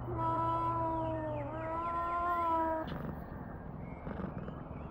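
A cat in the video game The Well meows in long, drawn-out, clearly pitched cries, close and loud, followed by softer rustling ambience with no speech.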